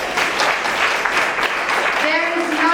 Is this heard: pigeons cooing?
no